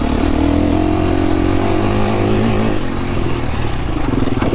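KTM 350 enduro motorcycle engine revving hard on rough trails, a loud, close, continuous buzzing roar with fluctuating pitch as the throttle rises and falls.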